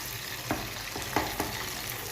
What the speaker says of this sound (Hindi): छिलका हटाने के बाद अब मैं इसको अच्छी तरह भून लूँगी 5 मिनट तक